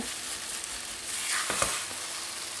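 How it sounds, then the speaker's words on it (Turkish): Metal spoon scraping sticky apple-carrot cezerye off the bottom of a pan, a few rough strokes over a soft continuous sizzle from the cooking mixture, close and fairly quiet. "Tavanıza yapışanları da şöyle güzelce toparlayabilirsiniz kaşığınızla"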